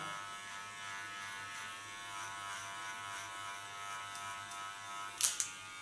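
An electric hair clipper buzzes steadily and close as it trims hair along the neckline, a continuous even hum with a couple of brief sharper clicks near the end.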